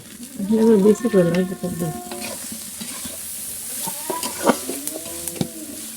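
Flattened rice pilaf (chire polao) is stirred in a frying pan, with scraping and soft sizzling under repeated spoon strokes, while a rooster or hen clucks nearby in the background.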